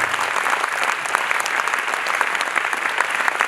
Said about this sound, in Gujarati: એકવાર આ બધા પાર્ટિસિપેશન માટે જોરદાર તાળીઓ થવી જોઈએ